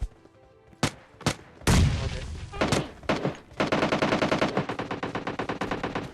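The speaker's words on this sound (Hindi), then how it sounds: "ये देखो कहीं और से भी गोलियां चल रही हैं" Gunfire in the mobile shooter game PUBG Mobile Lite: a few isolated loud shots, then sustained rapid automatic bursts rattling on for several seconds over quiet background.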